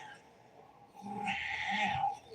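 A male cat gives a soft, drawn-out meow, faint and somewhat distant, rising briefly in a quiet room.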